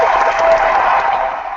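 Clapping during a tennis fan podcast, a brief, dense patter of hands applauding steadily at close range, fading slightly toward the end.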